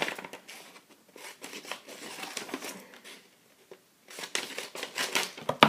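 Scissors snip in short, irregular bursts at close range, with crinkly paper rustling between cuts and a brief quiet pause midway.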